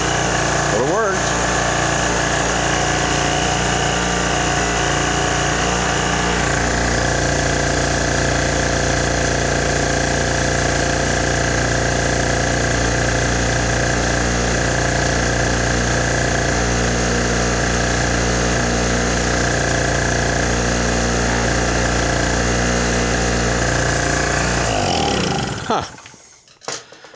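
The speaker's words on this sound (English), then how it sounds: "Well, I should mention this is two-stroke gas. It is two-stroke in there, so that's okay. Well, it runs." An old Genmate two-stroke gas generator that had sat unused for years runs steadily at close range, a loud buzzing drone that holds for nearly half a minute before cutting off at the end.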